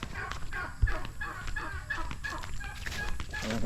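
Chickens cluck on a rural countryside farm where turkeys are also kept, with repeated short calls at moderate distance over a steady outdoor background.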